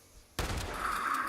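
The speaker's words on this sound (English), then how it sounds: "big shotgun." In the video game Fallout 76, a big shotgun fires a single loud, close blast that rings out and then decays slowly with a lingering echo, after a quiet lead-in.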